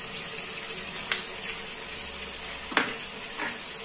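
Ginger paste sizzling in hot oil for an aloo biryani, a steady hiss with a few sharp clicks and scrapes from a spoon, close by, with no one talking.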